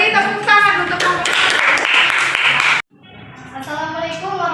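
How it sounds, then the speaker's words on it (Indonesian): Classroom applause for a student group, dense clapping under talk and voices that cuts off sharply, followed by a quieter stretch of speech. "Beri tepuk tangan untuk kelompok"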